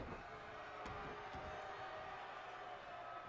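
Crowd noise in the WWE 2K19 wrestling video game, a faint steady arena murmur with a couple of short sharp thuds early on, sitting low and distant without clear talking.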